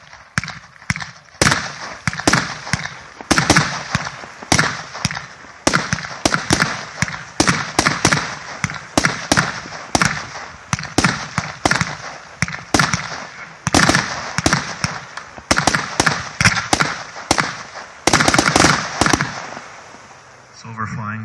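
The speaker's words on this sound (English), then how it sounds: "It's a 36-shot Bohemia, which are like silver flying dragons with blue pistols." A 36-shot Bohemia fireworks cake bursting as silver flying dragons with blue pistols, a fast run of sharp crackling reports at steady rhythm, loud and continuous for about twenty seconds, with faint voices in the background.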